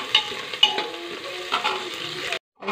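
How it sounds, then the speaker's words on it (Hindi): Finely chopped onions frying in a pan with green chilli and garlic, a close steady sizzle with a few light stirring knocks, ending abruptly in brief silence. "इसको लाइट ब्राउन होने तक भून लेंगे"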